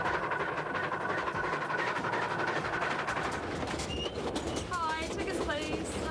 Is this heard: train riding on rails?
yes